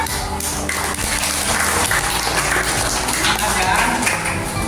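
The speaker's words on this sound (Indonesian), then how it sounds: "Tepuk tangan anak-anak." Schoolchildren clap their hands together in a classroom during a lesson, producing a loud, busy patter of uneven slaps that runs throughout, with voices mixed in.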